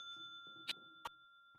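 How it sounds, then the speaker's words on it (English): A villager in Minecraft rings the village bell: two quick, bright dings about a third of a second apart, fairly faint over a low steady game ambience. "Ah, I hear a bell ring."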